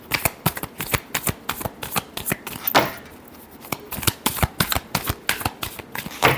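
Tarot cards are shuffled briskly in a fast run of crisp riffling flicks, close and clear, with a brief pause midway before the rapid shuffling resumes.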